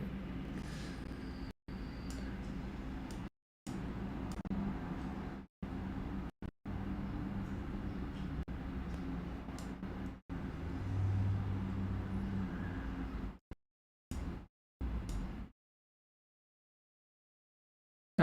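Steady road traffic noise from outside, a continuous low rumble of passing cars lasting most of the stretch with several abrupt cutouts, then falling silent near the end.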